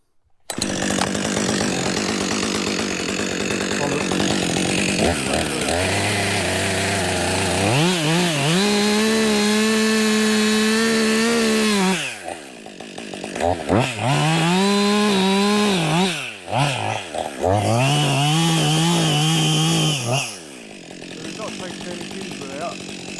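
A chainsaw bores into the front of a dying ash tree during felling, its engine revving up and down through several loud cutting bursts with brief idling dips between them, and a voice speaks at times.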